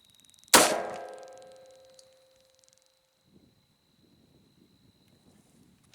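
A single sharp crack from a Remington 770 bolt-action rifle, fired left-handed, with a ringing decay that fades over about a second and a half, followed by quiet faint rustling.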